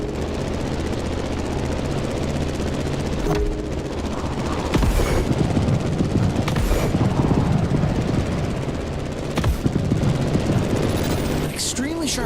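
A plane engine drones steadily in The Crew Motorfest racing game, a continuous loud hum broken by a few sharp bursts and swells.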